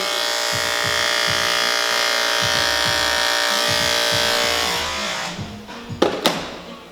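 A barber's electric hair clipper buzzes loudly and steadily during a marine high skin fade, humming continuously with slight pitch shifts as it works, then cuts off near the end, leaving a few brief clicks and taps.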